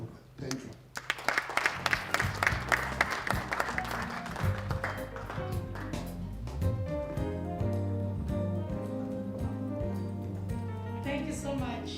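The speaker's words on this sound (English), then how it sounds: "Another round of applause, please." An audience at a ceremony renaming State House to Lillian Diedericks House in the Eastern Cape gives a short round of scattered clapping, faint and quick, in the first few seconds. Steady droning tones follow.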